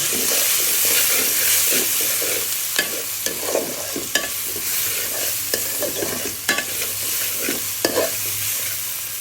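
Whole spices, turmeric and salt fry in a pan of curry for cauliflower and cabbage, a steady close sizzle with a spoon repeatedly scraping and stirring in short strokes, no voices.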